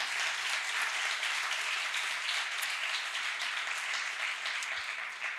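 A church congregation applauds at the close of a service, a steady dense wash of clapping that stays even and fairly loud throughout with no voices standing out.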